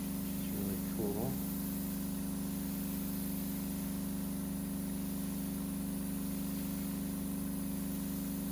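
A 6 in 1 liquid dermabrasion machine sprays nano mist with a steady, faint humming drone that never changes. A brief voice is heard near the start.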